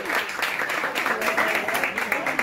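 An audience claps for a performer at a Brazilian church children's event, producing a brief burst of applause mixed with voices talking over it.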